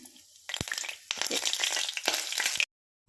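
Mustard seeds, cumin and chana dal dropped into hot oil for a tempering for Andhra-style gongura chutney, loud crackling sizzle in bursts with popping seeds, then sudden quiet at the end.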